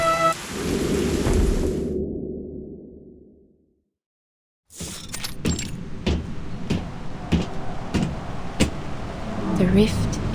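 A thunderstorm in the video game Reverse: 1999: heavy rain and rolling thunder fade into a moment of silence, then return with sharp cracks and steady downpour while voices speak over it.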